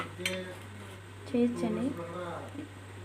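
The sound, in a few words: mixing cold coffee in a glass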